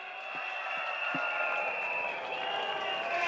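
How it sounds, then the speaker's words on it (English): A crowd of supporters applauds at an outdoor Singapore Democratic Party campaign rally in Marsiling–Yew Tee, a continuous wash of clapping and cheering heard at a distance, steady throughout with a few low thumps early on. "give yourself a big round of applause"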